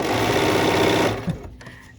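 A 535 sewing machine stitches fabric in a fast, dense, continuous run that stops abruptly midway, leaving a faint click and quiet room tone.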